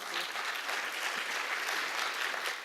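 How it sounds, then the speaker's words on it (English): Dense audience applause welcoming an ambassador at a mock climate change conference in Songdo, a steady wash of clapping that holds at an even level for the whole stretch. "Please welcome her with a big round of applause."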